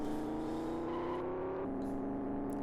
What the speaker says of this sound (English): Lovely engine sounds on this though